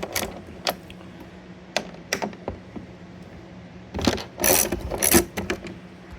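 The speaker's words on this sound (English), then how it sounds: "So just remove these four bolts here" A ratchet backs out the lid bolts on an Indian Challenger motorcycle saddlebag, giving scattered clicks and then quick clustered bursts of ratcheting and metallic clatter, close up and with no talking.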